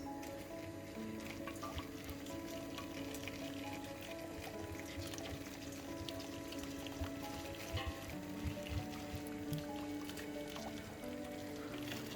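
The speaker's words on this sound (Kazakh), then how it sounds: "Қайнап тұрған ыстық су құямыз." Boiling hot water is poured over corn with a faint, continuous liquid pour and splashing, mixed with soft drips and squishy sounds, and no talk.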